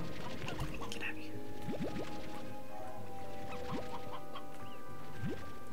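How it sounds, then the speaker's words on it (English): Chickens cluck in the Slime Rancher 2 video game, a busy scatter of short clucks and calls over game ambience and music tones, with brief rising whistle-like sweeps now and then. "Look at all the freaking chickens"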